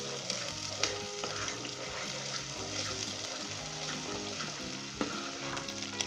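Ginger garlic paste frying in hot oil for a chickpea gravy, giving a continuous close sizzle with occasional stirring clatter and a faint voice underneath.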